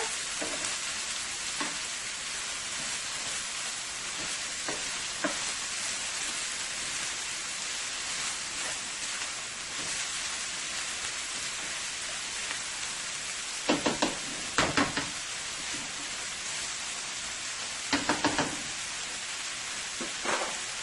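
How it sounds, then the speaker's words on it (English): Vegetables sautéing in a pan for fish-cake prep give a steady, loud frying sizzle throughout, with a few brief clinks and stirring scrapes near the end and no talking. "I'm going to let my vegetables saute for about 3 to 4 minutes until it's a little tender"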